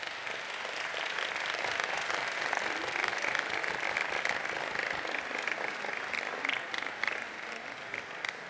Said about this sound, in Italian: Un applauso a questo coro popolare.